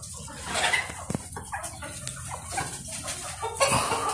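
Chickens cluck and squawk in short, scattered bursts close by at a Dammam holiday spot, with a busy, noisy outdoor background around them.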